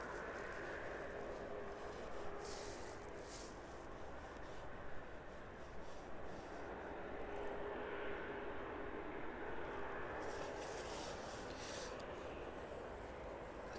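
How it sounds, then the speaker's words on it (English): A Ryanair passenger jet sits at East Midlands Airport, its engines a distant, steady low rumble and whine that hold faintly across the whole stretch without voices. "Ryanair aircraft in the distance there, well behind the 737, just about to start taxiing"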